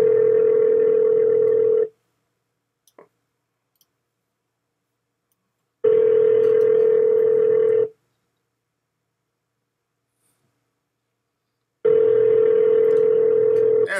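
A telephone dial tone sounds in three steady, loud bursts of about two seconds each, separated by roughly four-second silences with a couple of faint clicks, while a phone call is being placed; no one speaks.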